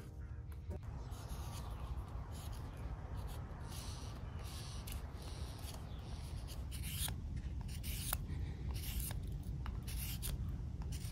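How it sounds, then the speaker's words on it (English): A knife whittles the bark off a wooden stick outdoors, giving a steady close scraping and shaving rasp that runs throughout with short sharp cutting strokes, over a constant low background rumble. "I'm gonna whittle off the bark."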